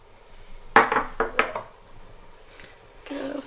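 Cumin seeds and salt being stirred in a pot for pilau rice: a few quick, near scrapes and clinks of a utensil against the pot, then a softer scrape after a short pause.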